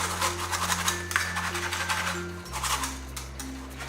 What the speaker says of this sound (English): Just put the sieve back in, whisk it a little bit